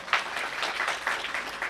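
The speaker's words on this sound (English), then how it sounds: "Please give him a big round of applause." Audience at a professional meeting on competition law applauding a speaker's introduction, a moderate, fairly thin patter of individual claps lasting under two seconds.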